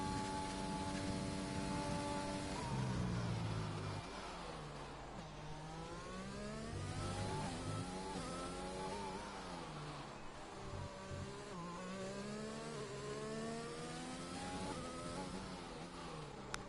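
Formula 1 car engine in an F1 racing video game on a hot lap, a high-pitched whine rising and falling through gear changes and corners, steady and continuous without talk.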